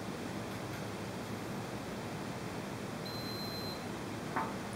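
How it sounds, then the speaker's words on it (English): A multimeter set to continuity mode gives a single thin, steady electronic beep of under a second, heard over a constant broadband hiss with no talking. "this one is set to make a noise when you have continuity"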